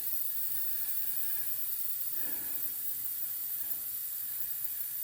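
Air hisses steadily out of an open airbag valve stem, its Schrader core removed, on the tilt bed of a 1964 Ford F100, a continuous close breathy rush with no voices.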